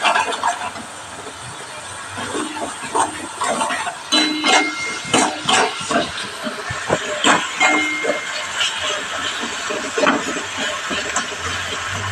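Spices fry in oil for a papaya and prawn curry, a steady loud sizzle and hiss with crackling bursts and occasional stirring clatter, close and unbroken.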